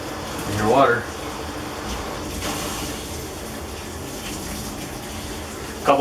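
A load-sensing washing machine fills with water on a normal cycle, giving a steady rushing flow through the plumbing. A few gurgling air burps bubble up at the start and again near the end.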